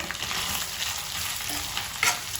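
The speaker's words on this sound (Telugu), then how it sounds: "ఇందులోనే అల్లం ఉల్లిగడ్డ పేస్ట్ వేసుకుంటాము ఇది కూడా మనకు ఫ్రై అవుతుంది అనమాట" Ginger and onion paste frying in a pan, a dense, steady, close sizzle with a couple of brief stirring scrapes near the end and no voices.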